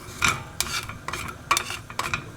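Whole spices for sambar powder dry-roasting in a pan on high heat, with repeated bursts of scraping and stirring against the metal every half second or so over a low crackle, close and moderately loud.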